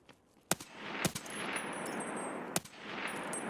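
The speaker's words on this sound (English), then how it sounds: "Terrible shooting on my part." Gunfire in a raid-style shooter game on city streets: a few sharp, separate shots, roughly three spaced over a few seconds, loud and close against a steady background wash of ambient noise.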